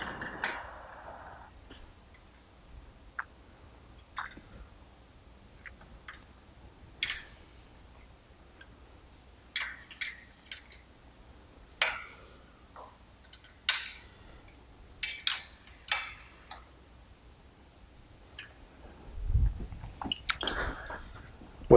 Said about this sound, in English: retighten the 4 cap screws that are on the top